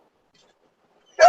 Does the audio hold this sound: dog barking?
yes